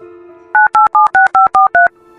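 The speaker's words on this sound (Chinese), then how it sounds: "你给他打电话啊！" Seven quick two-tone keypad beeps from a telephone dialing a number, evenly spaced and loud over a faint steady dial tone, with no talking.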